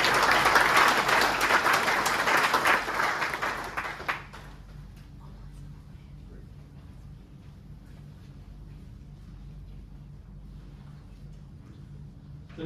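An audience claps for a speaker coming on stage at an industry supplier session in Townsville, a dense burst of applause for about four seconds that fades into quiet room tone.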